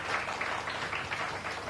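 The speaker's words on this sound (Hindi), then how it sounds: "एक बार जोरदार तालियां बजती रहनी चाहिए" Audience applause at a felicitation ceremony on stage for a doctor during a health talk, a dense, continuous wash of clapping from many hands, steady and moderately loud.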